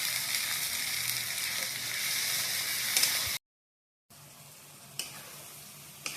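Onions and ground masala fry in a pan with a steady, dense sizzle, broken by a brief silent gap, then a quieter sizzle with a few sharp clinks of stirring.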